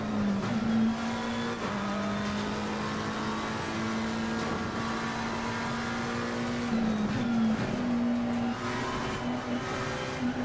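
Race car engine in Assetto Corsa Competizione droning steadily on a track, a sustained loud tone that rises and dips through gear changes and throttle shifts, close and continuous with no talk.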